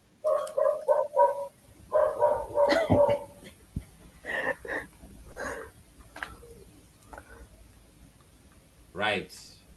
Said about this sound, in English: somebody angered the dog there